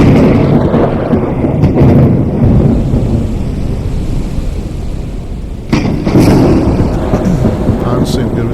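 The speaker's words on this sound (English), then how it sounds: "We'll just kind of hang out here while the storm rages." Thunderstorm in the video game Forever Skies: a steady roar of heavy rain and rumbling thunder throughout, with a louder thunder crack near the end.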